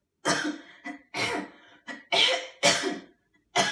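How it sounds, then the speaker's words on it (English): A person coughs repeatedly in close, harsh bursts, about six coughs with short pauses between them. "How are you starting cough for?"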